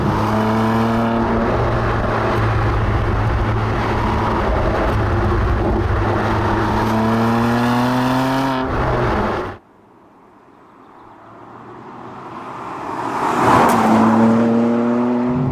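BMW M2 CS driving with a loud, steady engine drone under load and gear-linked pitch steps, then a sudden drop to quiet before the engine revs climb again to a sharp peak.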